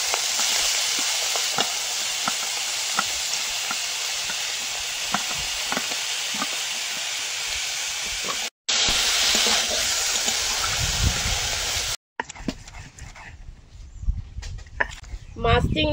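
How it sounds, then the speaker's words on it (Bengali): Red prawns fry in hot oil in a pan, giving a steady loud sizzling hiss with scattered crackles and stirring noises, briefly interrupted twice, then a rougher, more uneven spatter near the end. "এবার লাল চিংড়ি গুলো ভেজে নেব।"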